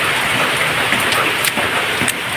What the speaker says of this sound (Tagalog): Lakas nga lang talaga ng ulan.